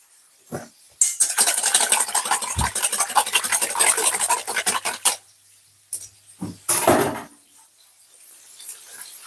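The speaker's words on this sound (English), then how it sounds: "I'm just going to crack another egg in this, and I will just whisk it" A cracked egg is whisked in a bowl, a fast run of close, rhythmic scraping and tapping strokes for several seconds, then a few scattered knocks and a short final flurry.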